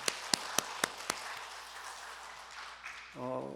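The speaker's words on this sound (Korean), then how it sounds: "모든 분들에게 감사의 박수를 드리도록 하겠습니다" A church congregation at a Sunday afternoon service gives a few scattered, sharp claps that quickly fade into quiet room murmur, followed by a speaking voice near the end.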